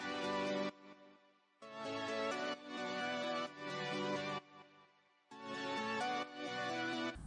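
A synth plays layered chords from GMS in blocky sustained stabs, three or four chord hits separated by brief gaps, fairly quiet with no voice over it.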